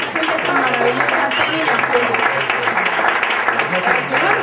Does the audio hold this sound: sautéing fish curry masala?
no